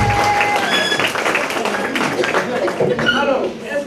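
Audience applause rising at a live French wordplay show, dense clapping throughout with some tonal voices and a chuckle mixed in near the end.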